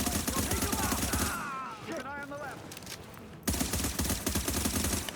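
Short bursts of gunfire from a video game, tap-fired at range, loud and dense at the start, dropping away in the middle while electronic warning tones sound, then returning as rapid overlapping shots toward the end.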